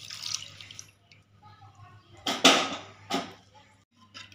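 Hot water is poured a little at a time into churned dal in a home kitchen, giving a few short splashing, trickling bursts with quieter gaps between them.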